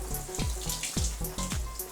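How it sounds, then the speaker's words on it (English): Shower water runs steadily in a home bathroom, a continuous splashing hiss with repeated low gurgling swells, close and fairly loud, with no voices. "don't forget to turn off the shower water"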